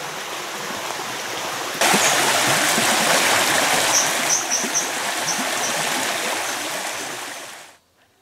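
The River Dove flows through Beresford Dale near Pike Pool in Derbyshire's Peak District, a steady close rush of stream water with a slight rise in intensity partway through, running continuously and alone before cutting off.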